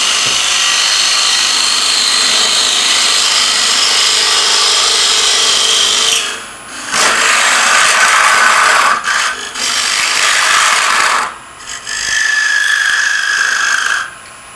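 Bowl gouge cutting a recess into a side-grain wooden bowl spinning on a lathe, a steady close hissing, scraping cut broken by several brief pauses between passes, with no voices.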